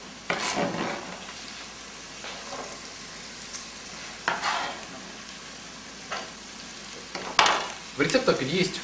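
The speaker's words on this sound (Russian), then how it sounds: "Всегда начинаем с обжарки лука и моркови" Onions and carrots sizzle quietly in a pan while a utensil stirs and scrapes in bursts every couple of seconds.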